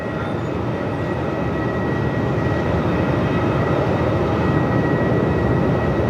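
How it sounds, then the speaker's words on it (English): Qantas flight 458 takes off from Melbourne Airport for Sydney in 45-knot winds, a loud, steady jet roar with deep rumble that builds slightly over the seconds, no talk. "this is Qantas 458 heading off to Sydney this afternoon"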